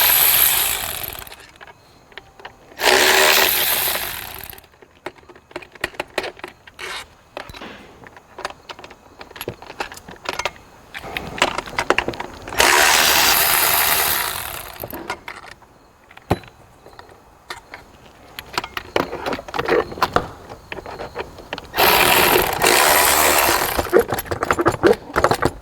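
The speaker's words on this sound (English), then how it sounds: "And then I'm gonna undo these bolts up here." Ratchet clicks and metallic tool handling on an Audi Q7 3.0L engine while bolts near the throttle body are undone, coming in several loud close bursts separated by quieter mechanical clatter.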